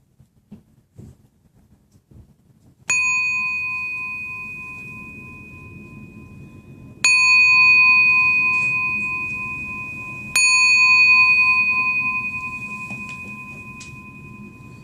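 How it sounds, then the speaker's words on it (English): Three resonant meditation bell strikes ring out in a quiet room during a mindfulness class, each one clear and sustained, fading slowly before the next. "The next sound of the bell concludes this meditation"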